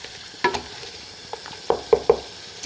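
Tomato-onion masala with mutton chops frying in a karahi, stirred with a spoon: a soft sizzle under several distinct scraping strokes, three in quick succession near the end.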